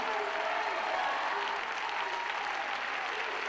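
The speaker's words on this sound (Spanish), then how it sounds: "Dale un aplauso al Señor." A crowd at a religious gathering applauds steadily, a dense wash of clapping that stays loud and even throughout.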